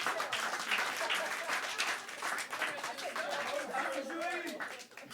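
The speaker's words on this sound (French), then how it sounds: "Applaudissez-vous, s'il vous plaît." A crowd at a slam poetry tournament in Antibes claps continuously, with voices and chatter mixed into the applause and a person speaking over it toward the end.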